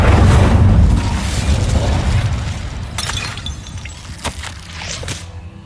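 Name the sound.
Incendio fire spell cast in the video game Hogwarts Legacy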